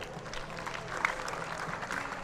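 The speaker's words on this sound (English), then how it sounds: "Big round of applause for our coach as well" An audience at an exhibition lawn bowls match claps steadily for a team coach, a faint, even patter of many hands with light crowd murmur.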